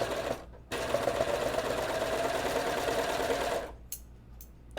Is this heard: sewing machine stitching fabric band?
yes